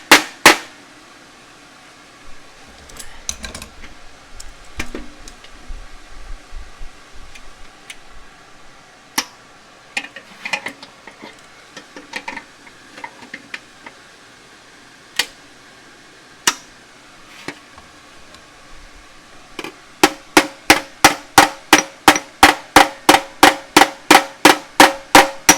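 A hammer works a sheet metal flange over a wire edge on a garden pulling tractor fender. Irregular metallic taps come first, then a fast, even run of sharp, loud strikes close by at the end.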